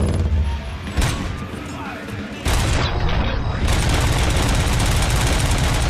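Heavy gunfire from the player's weapon in Robocop: Rogue City, loud booming bursts that cut in and out, with a pause before a sustained stretch of shooting.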